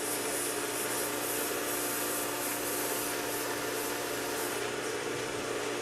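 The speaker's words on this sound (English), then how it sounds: "only sharpen your serrated blades on the right hand side of the knife guide, and it will only take one pass with the fine grit abrasive" A Work Sharp 2000 belt sharpener hones a serrated knife blade on a fine grit abrasive belt, giving a steady, unbroken abrasive hiss and grind that stays even from start to finish.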